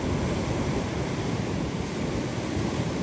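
Stormy sea waves crash and roar on the shore in a continuous loud wash, mixed with heavy wind buffeting the microphone and no pause, with no voices.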